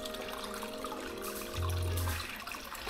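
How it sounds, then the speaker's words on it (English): Water is poured into a BioCube 32-gallon saltwater aquarium tank, giving a soft, close splashing trickle that swells briefly in the middle of a short, quiet moment. "So I'm adding the water."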